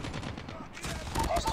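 Quick gunfire bursts in Call of Duty Mobile during a 10v10 Shipment match, faint and cluttered early, then louder clustered shots near the end with game effects mixed in.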